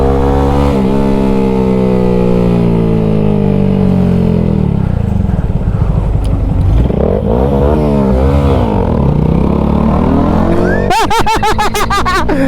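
A 2022 Honda Grom motorcycle engine drones steadily through the gears, pitch falling and rising, then ends in a sharp burst of loud revving near the close; the engine is loud and close throughout.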